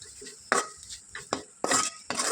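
A spoon scrapes and clinks against a pan as prawns and onions are stirred while they sauté, with several distinct sharp strokes over a soft sizzle.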